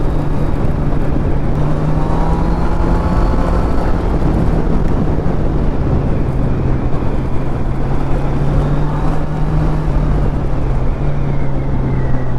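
Kawasaki Z900 motorcycle ridden through corners, its engine a constant low drone with a rising and falling tone, heavily buried in steady wind rush across the microphone.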